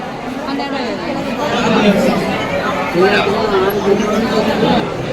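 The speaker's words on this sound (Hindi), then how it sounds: "ये देखिए, और बहुत ही ज़्यादा भीड़ है।" A large crowd chattering in the free darshan queue at Tirupati Balaji Temple near the ticket counter, a dense babble of many voices close by, steady and loud with individual voices rising out of the hubbub.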